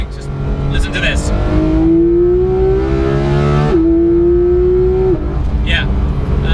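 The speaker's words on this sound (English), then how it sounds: "gear shifts are as savage as you would expect. Just listen to this." A Porsche 991 GT3 engine revs hard in a rising howl, with two quick gear shifts that drop the pitch before it climbs again. The sound is loud and close and fades at the end.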